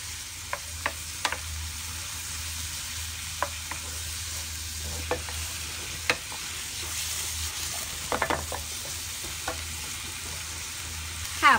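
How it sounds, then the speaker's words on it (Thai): Mussels stir-fried with a little sugar and water sizzle steadily in a pan. A spatula scrapes and taps against the pan now and then, with a louder clatter at the close. "พอเราผัดคลุกเคล้าเข้ากันดีแล้วนะคะ"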